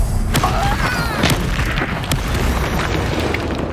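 A Confringo fire-blast spell from the wizarding video game Hogwarts Legacy goes off in a booming burst with sharp cracks layered over rumbling battle noise and whooshing magical streaks, loud and close, with no voice over it.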